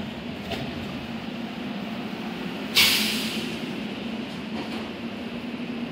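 Ride aboard an automated airport tram at Harry Reid International Airport in Las Vegas: a low steady rumble and hum of the car in motion, with a sharp hiss-like burst partway through and faint clicks around it.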